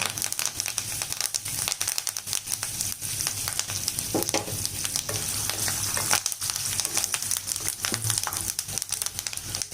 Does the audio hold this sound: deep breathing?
no